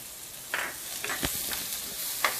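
A large finely chopped onion sautés in oil with spluttered mustard seeds, giving a soft steady sizzle punctuated by a few brief scrapes and clinks of a stirring spoon against the pan.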